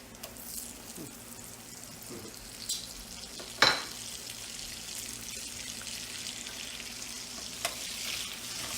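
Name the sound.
frying in bacon grease and butter in a cast iron skillet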